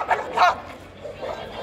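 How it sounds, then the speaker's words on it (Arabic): An Armant dog, the guard breed of Upper Egypt, barks twice in short loud bursts at a Friday dog market in Alexandria, followed by fainter yelps amid background chatter. "كلب ذكي جدا."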